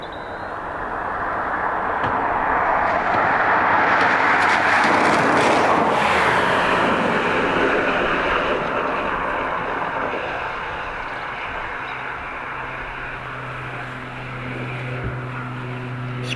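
A Widerøe Embraer E190-E2 jet airliner arriving from Bergen roars past at an airport, a broad jet rumble swelling to a loud peak then fading into a lower, distant whine and hum, with no talking.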